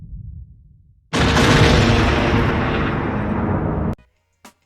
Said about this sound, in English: the seismic charge is my favourite by far